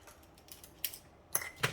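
A few light metallic clicks and snips, like scissors being picked up and opened for cutting card stock, close by in a quiet room.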